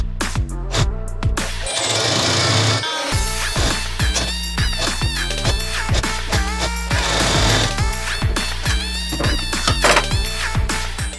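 A sewing machine runs continuously while stitching the neckline of a wrap blouse, giving a loud, rhythmic mechanical chatter with regular pulsing beats and a brief pause near the start.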